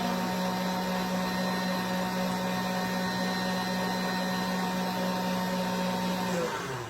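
An electric mixer runs steadily on high speed, whipping cream for a gluten-free strawberry cake filling; a constant loud motor whine with a droning hum that winds down at the very end.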